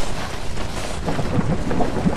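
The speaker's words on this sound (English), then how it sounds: "Oh, it's raining now." Steady rain with rumbling thunder in the video game Lethal Company, a continuous loud downpour with a few low rolls of thunder.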